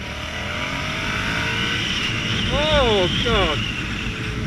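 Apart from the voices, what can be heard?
Yamaha XSR700 motorcycle accelerating on motorway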